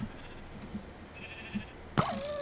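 Sheep bleating in the video game Minecraft (Bedrock Edition), several short bleats at modest volume spread over the clip, then a sudden louder burst of game noise near the end.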